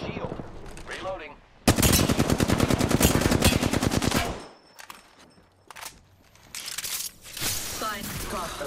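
Rapid automatic gunfire in an online shooter video game, a loud sustained burst of shots followed by shorter bursts, alongside quieter stretches.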